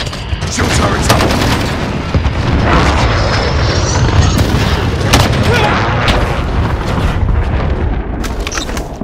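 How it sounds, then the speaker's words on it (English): Precision airstrike explosions in a first-person shooter, loud close booms and gunfire bursts piling up in a dense barrage, with sharp blasts cracking through at intervals. "Be advised, friendly precision airstrike inbound."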